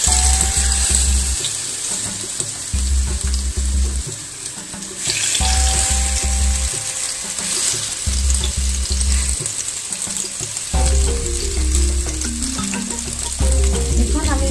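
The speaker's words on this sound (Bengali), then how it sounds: "গরম কড়াইয়ের মধ্যে অল্প একটু পরিমাণে তেলের মধ্যে মাছটি ভাজি হচ্ছে" Hilsa fish frying in a small amount of oil in a hot wok, giving a steady, close hiss and crackle with brief clinks and stirring noises running through it.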